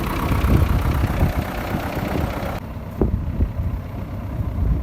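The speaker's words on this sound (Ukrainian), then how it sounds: "Так працює стартер." The pull-cord starter engine of a T-74 tractor running loudly and roughly, a steady low chugging rumble that shifts in tone partway through and keeps going.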